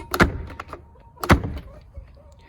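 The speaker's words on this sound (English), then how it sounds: "let's see if the door works" A repaired milkhouse door being tried, with two heavy thunks about a second apart, each followed by rattling and clatter, close by and without talk.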